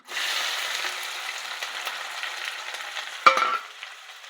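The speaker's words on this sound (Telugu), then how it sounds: "ఇప్పుడు మనము ఇదే ఆయిల్లో మనం ముందుగా కట్ చేసి పెంచుకున్న ఉల్లిగడ్డలును మిరపకాయలు కదండి ఇందులో వేసుకుందాం" Chopped onions and green chillies sizzle in hot oil, a dense steady frying hiss starting abruptly, with one sharp clack of a utensil near the end before the sound eases, close and without speech.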